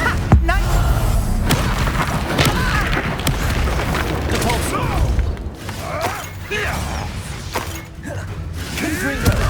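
The Confringo spell explodes in Hogwarts Legacy, punchy booms and crashing impacts in a loud, busy magical fight, with some voices mixed into the combat noise.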